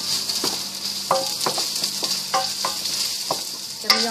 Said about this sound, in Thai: ผัดให้หอมเลยนะเพื่อนๆนะให้ดอเร่ให้หอม